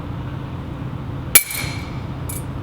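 A single sharp metallic clink as a hammer strikes a punch on the steel blade of a garden trowel, marking a hole position, close and bright with a short ringing tail over quiet room hiss.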